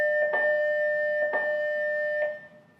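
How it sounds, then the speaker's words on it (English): A building fire alarm signal tone sounds in three evenly spaced electronic pulses over a steady tonal hum, fairly loud and unaccompanied by talk, with the final pulse fading out. "Is that a fire alarm?"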